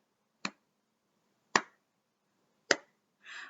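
Hand claps, three single sharp claps about a second apart, close and quiet, followed by a softer, fuller sound at the end.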